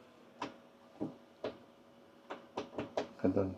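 Door of a Hino PUV (public utility vehicle) being handled, giving a series of sharp knocks and clicks spread over a few seconds, ending in a louder cluster of thuds, heard close up.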